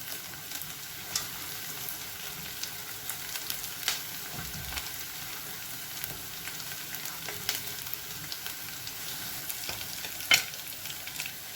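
Onions and curry leaves sautéing in a pan for a Kerala-style kanthari chicken dry fry, a faint steady sizzle with occasional soft stirring scrapes, no voices.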